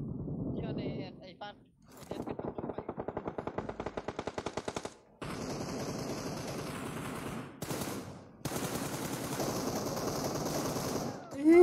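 Rapid automatic gunfire in a PUBG Mobile scrim, long sharp rattling bursts separated by brief pauses, loud and close, with players talking between and over the shots.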